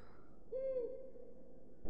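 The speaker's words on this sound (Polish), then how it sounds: "My eagle owl is in the owlery, but he's rather highly strung." An eagle owl in the PS1 Harry Potter video game gives a single clear, medium-pitched hoot that holds briefly and trails off, set against quiet background hum.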